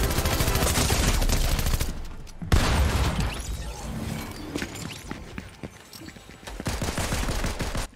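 Dense Fortnite gunfire, loud and continuous, with a sharp heavy blast partway through and a brief quieter stretch before the shooting resumes.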